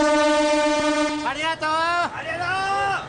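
A train sounds its horn at a crowded Japanese station platform: a sustained tone, then two sliding, swelling blasts, loud and close over the platform hubbub.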